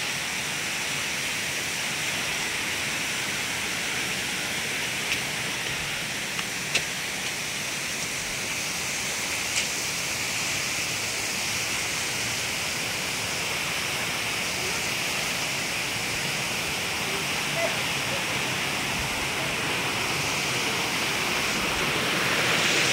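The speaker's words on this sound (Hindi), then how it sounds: "कितना सुंदर झरना, वाह।" Katulkasa waterfall near Keshkal in Kondagaon district, a steady broadband roar of falling water, loud and continuous throughout with no break.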